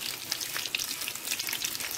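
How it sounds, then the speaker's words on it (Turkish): Breaded Turkish kadınbudu meatballs, coated in breadcrumbs and egg, fry in hot oil in a pan with a steady dense sizzle and crackle throughout, close and alone. "Kadın budu köftelerim şu anda kızarıyor arkadaşlar."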